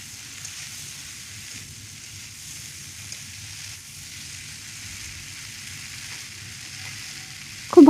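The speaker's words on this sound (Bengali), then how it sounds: "মশলাটা কষানো হবে।" A spice paste of ginger and green chillies fries steadily in a pan for a Bengali home-style pui pituli dish, giving a continuous close sizzle with a sharp clatter at the very end.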